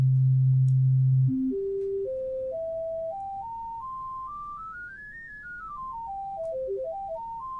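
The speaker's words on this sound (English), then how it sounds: "Let's listen to those harmonics." Pure sine tones step upward one after another in a rising series of pitches, each note held briefly and climbing steadily, then sliding back down and up again near the end, clean and electronic with no other sounds.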